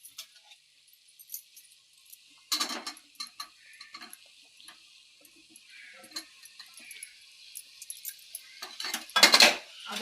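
A spoon stirring vegetable biryani with potatoes in a metal pot, giving scattered scraping and clinking strokes of uneven rhythm, with louder clatters near the start and again near the end.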